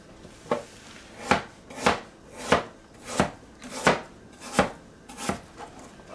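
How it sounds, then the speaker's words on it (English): A knife chops apples finely for cinnamon rolls with a crumble, about eight crisp, evenly spaced strokes in a steady rhythm, close and clear with no talking. "I think because I'm chopping them up kind of finely,"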